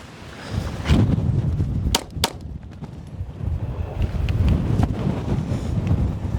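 Gusty wind buffets the microphone at an outdoor shooting range, a rumbling low roar that rises and falls, broken by a few sharp distant cracks that could be gunshots.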